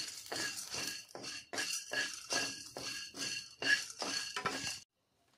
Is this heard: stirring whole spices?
yes